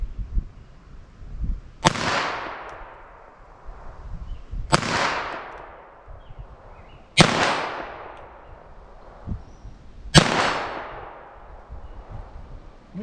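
Four sharp .22 LR pistol shots at an outdoor range, aimed at a target 40 yards away, spaced a few seconds apart, each a loud crack with a ringing decay and faint handling sounds between shots.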